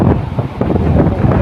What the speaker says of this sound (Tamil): காற்றுக்கு கேட்குதானே தெரியல, சரியான காற்று.